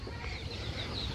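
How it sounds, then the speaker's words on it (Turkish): A frizzle chicken gives a soft, brief cluck in a quiet farmyard, faint and alone for about a second. "Bak burada tavuk var."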